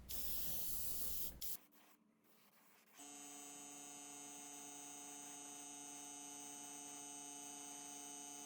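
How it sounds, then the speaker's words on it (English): An airbrush lays fine coats of black paint on a 1975 Corvette Stingray shifter plate as part of a restoration, giving a steady soft hiss over a faint electrical hum after a brief louder rush at the start. "With this airbrush, you can lay really fine coats of paint"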